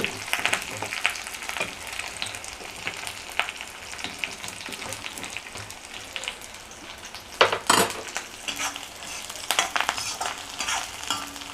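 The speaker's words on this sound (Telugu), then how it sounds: "కొంచెం ఎండుమిరపకాయలు ఫ్రై అయిపోతే ఇది అయిపోయింది ఆఫ్ చేస్తా" Dried red chillies and curry leaves sizzle steadily in hot oil in a pan, with occasional stirring clinks of a utensil against the metal and a brief louder scrape near the end.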